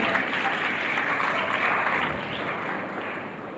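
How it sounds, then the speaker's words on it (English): Audience applause for youth delegates at a school G20-style youth assembly, a dense steady clatter of many hands that holds fairly loud throughout and eases slightly toward the end, with no voices over it. "Can you please have a round of applause for them?"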